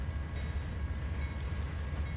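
A BNSF locomotive train running in Trainz 2022, a steady low rumbling drone with no horn or talk.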